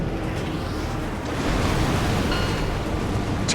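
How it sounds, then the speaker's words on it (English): A fighter aircraft in the Ace Combat 7 video game crashes into the ocean and throws up a huge splash: a dense, rushing roar of water that swells at about the midpoint and holds loud and steady to the end, with no voices. "Look at that splash."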